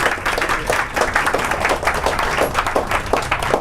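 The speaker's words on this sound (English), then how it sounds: "Give her a nice little clap, yes." Audience clapping at a spoken-word event, a lively, dense patter of many hands from a close crowd that holds steady, with a few louder claps poking through the rhythm.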